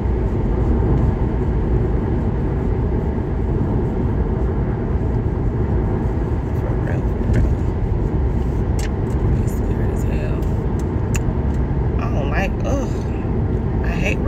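Steady road noise from a car driving behind big trucks: a continuous loud engine and tyre rumble throughout, with scattered small clicks and rattles over it.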